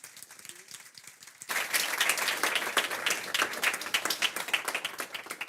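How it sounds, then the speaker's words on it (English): An audience at an event on the 2024 U.S. elections in Frankfurt breaks into a warm round of applause, starting with a few faint claps and swelling into dense, sustained clapping. "Warm round of applause."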